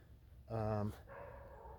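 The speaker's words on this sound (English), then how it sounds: "my neighbor's dog's out in the woods" A neighbor's dog barks once out in the woods at a distance, a short harmonic bark that stands clear of a low background hum.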